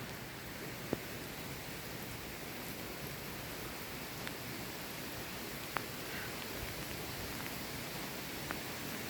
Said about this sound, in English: It's been raining like this for quite a few days.